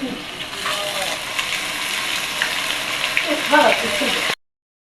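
Ground ginger, garlic and cumin paste frying in a wok, a steady close sizzle with small crackles and a few stirring scrapes near the end before it cuts off.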